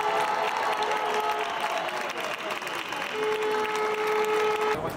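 A crowd of health care workers at a Barcelona street protest over working conditions claps together, a dense burst of applause with faint cheering and a held tone running underneath.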